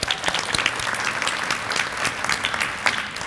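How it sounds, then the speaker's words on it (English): An audience at a city beautification kickoff event applauds with dense, lively clapping, a few sharper claps popping out over the steady patter, with no voices. "We give them a big round of applause."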